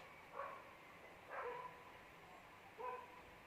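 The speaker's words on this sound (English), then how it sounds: "I don't know if you can hear the dogs, but they're going crazy right now" Three short bursts of dog barking, faint and distant, spaced about a second apart over a quiet background.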